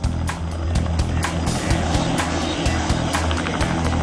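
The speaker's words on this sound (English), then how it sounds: "As the plane makes its final descent, Ted gives the stunt rider" An airplane on its final descent drones loudly and steadily, with a rumbling engine hum and faint pulsing beats running through the whole stretch, with no talking.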